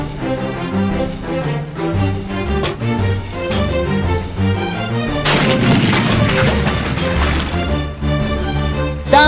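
A cannon fires amid a noisy comic battle scene, a heavy boom and blast wash midway over dense background music and clatter, loud and close.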